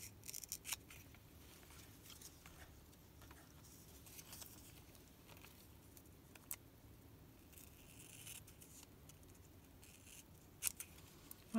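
Scissors cut card paper during card making, giving faint, scattered snips and rustles over a quiet room background with no talking.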